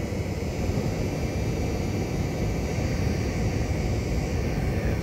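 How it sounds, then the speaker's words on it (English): The blower on a charcoal gasifier runs with a hand partly covering its end, giving a steady, loud, close rushing roar that holds constant throughout, with no talking. "And I got my hand over the end of the blower so it doesn't blow as much"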